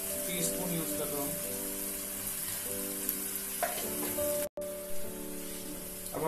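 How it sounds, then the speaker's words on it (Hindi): Onion and tomato frying in a pan with salt added, a quiet, even sizzle under a steady low hum, broken by a few soft utensil taps and a brief dropout near the end. "अब हमारा प्याज और टमाटर फ्राई हो चुका है"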